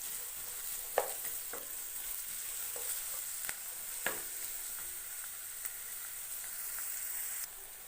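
Onion and green chili sautéing in a pan for veg noodles, a steady close sizzle with a few sharp clicks and scrapes of stirring scattered through, no voices.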